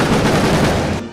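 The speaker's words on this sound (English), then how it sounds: "We got to see the very tail end of Mickey's Magical Friendship Fair with a little bit of pyrotechnics mixed in there." Pyrotechnics at a Magic Kingdom stage show, a dense loud roaring burst of crackling blasts that cuts off abruptly at the end.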